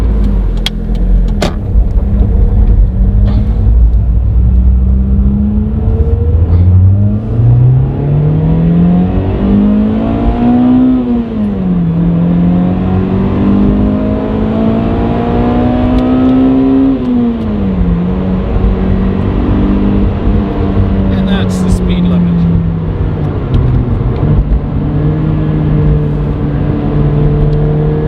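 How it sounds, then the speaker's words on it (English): Toyota Matrix XRS four-cylinder engine heard from inside the car accelerating hard through the gears, its pitch climbing steadily then dropping at each shift, loud and continuous with no talk. "So that was the sound of the engine in the Toyota Matrix XRS."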